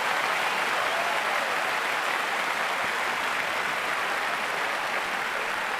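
Thick, steady crowd applause at the 2008 Roland-Garros men's final between Nadal and Federer, a loud uniform roar of clapping filling the stadium without pause.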